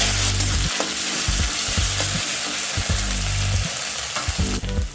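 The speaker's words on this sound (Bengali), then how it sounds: "মশলাটাকে আমি ভালো করে ভেজে নেব, তাহলে মশলার যে একটা কাঁচা গন্ধ সেটা থাকবে না।" A paste of ginger, cumin and green chilli fries in a hot pan with a steady, loud sizzle throughout, broken by the scrape of a spoon or spatula stirring it, close up with no talk.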